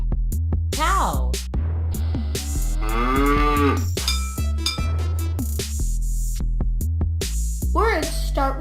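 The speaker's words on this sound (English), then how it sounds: "Cow." A cow moos loudly several times in a row, long drawn-out calls with falling and rising pitch, heard close and clear, with a child-oriented voice naming animals in between.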